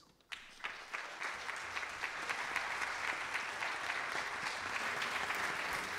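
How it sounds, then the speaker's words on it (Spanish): An audience at a municipal orchestra concert in Quilpué greets a performer with applause: a few sharp first claps, then a full, sustained round of clapping that builds and holds steady. "Un aplauso para Claudio Valdovinos."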